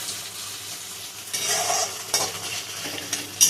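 Chicken and tomatoes fry in a pan, with a steady sizzle broken by a few louder scrapes and stirring bursts close up.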